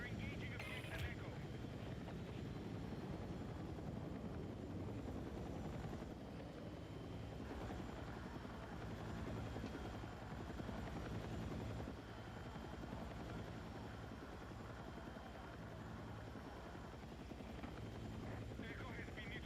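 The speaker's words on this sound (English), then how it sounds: "It's the utility helicopter" A utility helicopter in a video game, unarmed but with gunner seats, drones with a steady rotor thrum throughout while a player talks over it.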